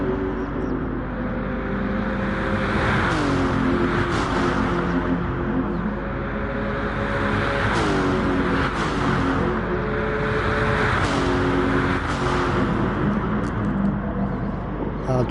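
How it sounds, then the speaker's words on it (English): Race car engines at Spa in a PS4 racing game rev and accelerate repeatedly, with pitch sweeping up and dropping through gear changes, loud and steady for the whole stretch, with commentary-style talk over them. "Hard on the brakes, 1st gear, 40 mile an hour plus, hard on the accelerator, and he takes it."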